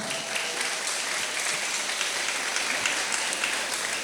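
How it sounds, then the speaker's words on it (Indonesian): Students and staff at a madrasah school gathering clap together in a steady, even roar of applause that stays close and unbroken throughout, with no talking over it. "Tepuk tangan."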